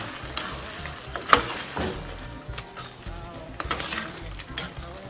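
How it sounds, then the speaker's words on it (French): Smoked shrimp stirred into a sauce in a pan for Beninese féchouada: a steady close sizzle with irregular scraping and clinking utensil strokes, a sharper clatter near the middle, and no talking. "Voilà, je remue le tout."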